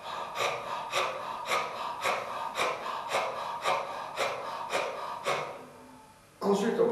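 Rhythmic breathing during a chakra meditation exercise, about a dozen quick, forceful, close breaths in steady succession, then a pause and another breath.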